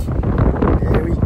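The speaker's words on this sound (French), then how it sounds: "le vent il souffle" Wind blows outdoors, buffeting the microphone with a loud, continuous broadband rumble that masks faint, muffled voices.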